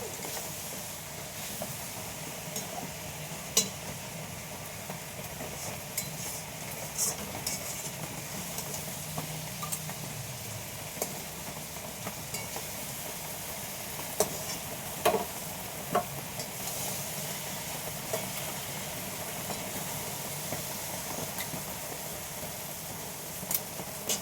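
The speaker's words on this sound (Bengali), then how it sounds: "তো একটা ডিম দিয়ে আগে কষিয়ে তুলে নিচ্ছি" Egg curry masala braising in a pan with a soft, continuous sizzle and scattered clinks and scrapes of stirring, fairly quiet and steady throughout.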